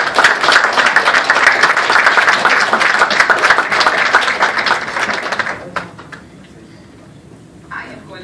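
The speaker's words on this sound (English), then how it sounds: "So I'd like to give a round of applause for those." An audience at an engineering program event breaks into dense, loud applause that holds for about five seconds, then fades to scattered claps and quiet room noise.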